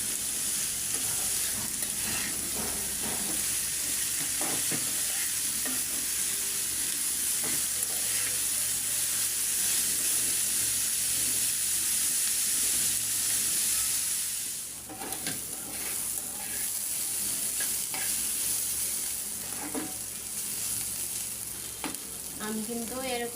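Bitter gourd with potato frying in a pan on a raised flame, a steady loud sizzle with the spatula scraping and stirring through it throughout.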